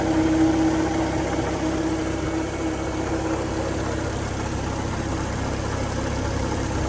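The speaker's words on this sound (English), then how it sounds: "Car's running. Motor sounds a lot quieter." Engine of a turbocharged B20 VTEC car idling steadily after its broken alternator bracket was repaired, a continuous low hum with a faint whine, close by and even throughout.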